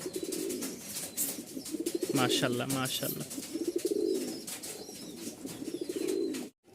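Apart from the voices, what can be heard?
pigeons cooing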